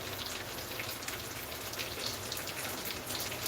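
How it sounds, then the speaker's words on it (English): Steady rain falling outdoors, a continuous dense hiss of drops on surfaces with no pauses, moderately loud and even throughout with no voices over it. "It's raining."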